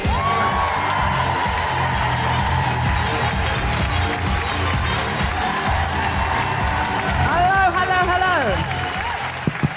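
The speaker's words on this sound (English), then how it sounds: "Big round of applause for Steve Alley!" A large theatre crowd at a comedy show in Edinburgh greets a comedian with loud, sustained applause and cheering, dense clapping throughout, with rising whoops and shouts near the end.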